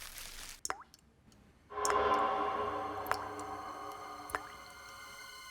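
Faint, sparse plops and ticks like water dripping in a quiet indoor room. A few isolated drops sound near the start, then a soft, steady background hiss carries a handful of sharper clicks.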